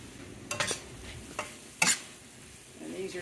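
Red snapper fillets fry in a pan on a stovetop burner after being flipped, giving a soft, low sizzle broken by a few sharp scraping clatters from the turner.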